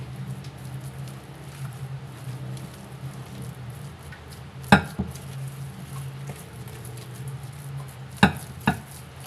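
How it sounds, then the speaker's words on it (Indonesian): Ingredients for a potato snack being stirred together in a bowl, a steady soft scraping and patter with a few sharper knocks of the utensil near the end, close and alone. "Kita aduk terus hingga semua bahan tercampur rata."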